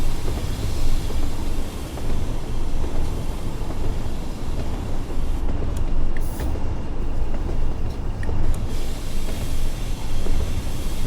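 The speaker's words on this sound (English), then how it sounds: "apply a little bit of brakes. We are going downhill, and we want to be on the brakes a bit here" A Class 20 locomotive brakes while running downhill on the Tees Valley Line in Train Sim World 3. A steady, loud rumble of wheels and engine carries a faint hiss of air brakes throughout.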